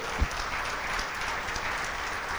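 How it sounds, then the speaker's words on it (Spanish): Steady applause from a church congregation fills the space as a dense, even wash of clapping, with one brief low thump near the start. "Dale un aplauso a Dios por su iglesia"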